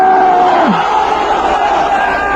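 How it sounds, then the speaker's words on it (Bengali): A large protest crowd chants a religious slogan in unison outside the French embassy, a loud, sustained massed roar of many voices close by with a single leading voice rising above it. "আকাশ বাতাস মুখরিত করে রসুল প্রেমিক তাওহীদি জনতা স্লোগান তুলতে হবে"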